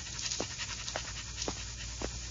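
A tracking dog on a leash pants steadily while following a strong scent outdoors, with rhythmic breathy gasps repeating about every half second over a low background rumble, close and moderately loud, with no talking.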